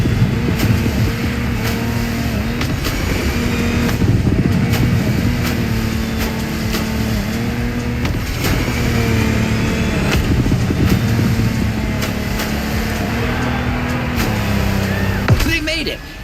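Lamborghini Technomar boat engine racing over water in The Crew Motorfest, a loud sustained roar with shifting pitch and repeated surges under a steady high whine, fading abruptly at the end.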